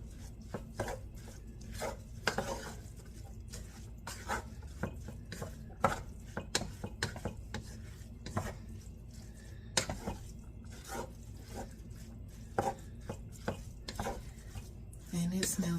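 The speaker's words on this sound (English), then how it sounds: "let's give this some stirs and get it incorporated" Meal-prep food being stirred in a pot, a repeated scraping and clacking of a utensil against the pot at an irregular rhythm over a soft background sizzle, close and moderately loud, with no talking.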